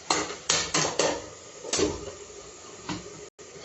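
A metal lid set on a cooking pot in a home kitchen: a handful of sharp clanks and knocks, close and fairly quiet, spaced irregularly across a few seconds, with no talk.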